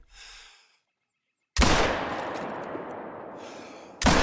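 A single loud .270 rifle shot booms during a whitetail deer hunt in Call of the Wild, with a sharp onset and a long echoing decay, followed by the start of a second blast.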